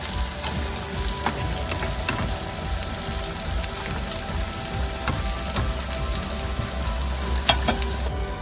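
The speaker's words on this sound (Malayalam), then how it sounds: "അതിലേക്ക് എണ്ണ ചൂടായി കഴിഞ്ഞപ്പോൾ നമ്മൾ കുറേശ്ശെയായിട്ട് സവോള ഇട്ട് കൊടുക്കുക" Sliced onions sizzle in hot ghee and oil while frying for chicken biryani, a steady crackling hiss with occasional sharp pops and the clink of stirring.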